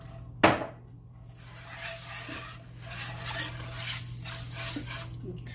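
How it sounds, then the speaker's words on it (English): Spoon scraping and stirring a chicken and rice casserole mixture in a dish, soft rhythmic rubbing strokes after one sharp clink, quiet and close, with no talking. "Get everything stirred in here."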